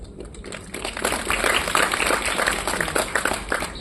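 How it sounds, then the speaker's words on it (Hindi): Scattered audience clapping at a student induction event rises after a quiet start into moderate, uneven applause, somewhat thin and distant-sounding, with a few brief voices mixed in. "तालियां कम बजी है"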